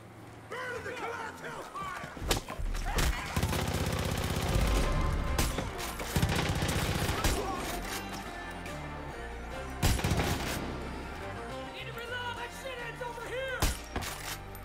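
Gunfire in the video game Far Cry 5, with bursts and sharp shots scattered through a busy combat mix, heard under someone talking throughout.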